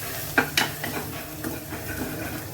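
Tempering spices for dal tadka sizzle in hot oil, with a couple of sharp clinks from a spoon early on and a steady crackling hiss beneath, close up.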